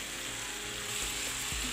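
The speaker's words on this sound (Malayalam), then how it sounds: "ഈ പാനിക്ക് തന്നെ ഞാൻ ആ ഓയിലിൽ ചിക്കനൊന്ന് ഫ്രൈ ആക്കി എടുക്കുന്നുണ്ട്." Pieces of chicken frying in oil in a pan give a steady, fairly quiet sizzle and crackle, with a few soft stirring knocks and no voices.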